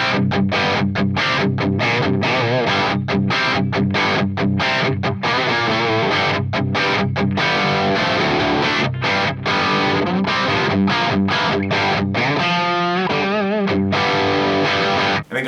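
A heavily distorted electric guitar pours through a Marshall DSL50 amp with the bass turned down to around 3 or 4 and the deep switch engaged, a loud, continuous riff of palm-muted chugs and ringing chords.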